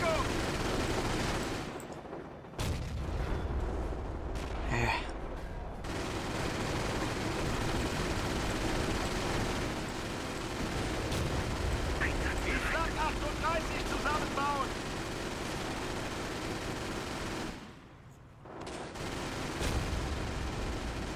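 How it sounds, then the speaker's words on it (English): Sustained battlefield gunfire from an American weapon in Company of Heroes, a World War II strategy game, rattling steadily through most of the stretch with brief lulls and a dense mix of distant shots and explosions. "I think that's actually an American gun."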